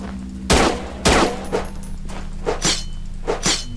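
Rifle fire in a sci-fi space horror shooter: two loud, sharp shots up front, then a string of quieter, quicker shots spaced across the rest, all up close with no voices.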